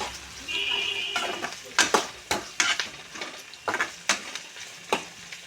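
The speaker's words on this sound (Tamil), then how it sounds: "வெங்காயம் நல்லா வதங்கணுண்ணே." Onions sauté in a pan with a steady sizzle, broken by a series of sharp, rhythmic scrapes and clinks of a utensil stirring against the metal, close and fairly loud.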